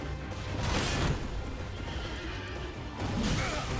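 A horse in Elden Ring lets out a loud, close whinny, with hoof clops and other game noise around it, and a second neigh rises near the end.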